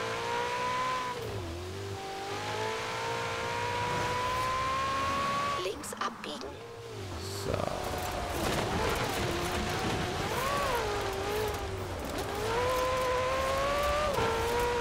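Maserati in Forza Horizon 4 driving with a loud revving engine whose pitch climbs and dips through gear changes, a short break midway with a clattering impact, and talk over it.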